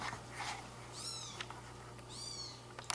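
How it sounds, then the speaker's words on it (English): Kittens give two clear, thin meows about a second apart, fairly close, over a low steady background hum. "Let's see some more kittens."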